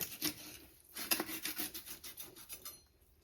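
Knife sawing through a cooked or raw turkey leg at the joint to separate it from the body, heard as repeated close rasping, rubbing strokes in a steady back-and-forth rhythm with no talking.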